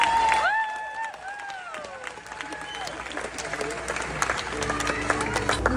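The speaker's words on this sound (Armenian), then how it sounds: "Ծափարություններով։" A crowd claps and cheers in a steady, dense wash that builds toward the end of a lively gathering, with voices mixed in.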